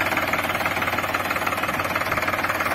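A new Solis Yanmar four-wheel-drive tractor engine runs steadily under load while pulling a 3MB reversible plow, a loud, close diesel chugging with a fast, even knocking pulse throughout.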